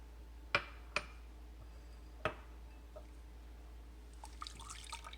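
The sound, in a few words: pouring half and half into a pan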